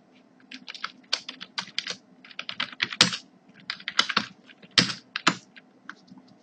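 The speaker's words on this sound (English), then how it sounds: "I'm just going to type in" Fingers type on a computer keyboard, producing irregular bursts of crisp, close key clicks with brief pauses and a few heavier keystrokes, and no talking.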